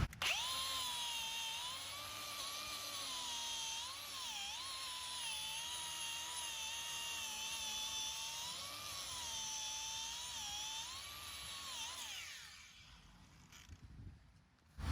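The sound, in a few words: grinder cleaning Fiat Punto brake hub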